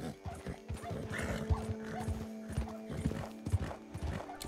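A horse gallops at full sprint in the western video game Red Dead Online, rhythmic hoof clip-clops thudding close and loud, with jingling tack and a brief whinny over a faint background hum.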